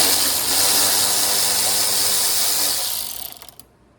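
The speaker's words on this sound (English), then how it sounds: "I'm going to be using an electric ratchet just because it's so much faster" An electric ratchet with a 4 mm socket spins loose a bolt during a Gen3 KLR motorcycle USB kit install, a loud, steady buzzing whir for about three seconds before it cuts off and quickly fades.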